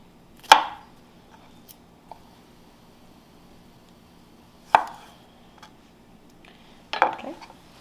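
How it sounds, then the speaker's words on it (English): A knife strikes a cutting board three times, spaced well apart with quiet gaps between, while vegetables are cut for a wine vegetable stock. "You do need to cut the ends off and prepare them like normal"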